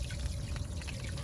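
Fish and water are tipped from a container into a backyard pond in a brief, steady pour, close and soft under low background rumble.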